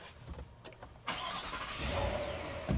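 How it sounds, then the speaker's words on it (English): A Chevrolet Silverado High Country truck with an Ecotec engine starts up: quiet cabin clicks, then a sudden crank and catch into a loud, even idle that holds steady. "let's go ahead and turn on the truck for the sake of the video"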